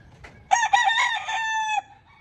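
Chickens on a rain-soaked farm give a loud close crow with clucking, a single drawn-out call lasting just over a second against quiet outdoor background, no talking.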